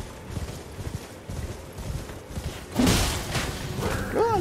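A horse's hooves clop and thud in a quick rhythm as it gallops in the video game Elden Ring, close and fairly loud, with a few heavier impacts and a sharp whinny-like cry near the end.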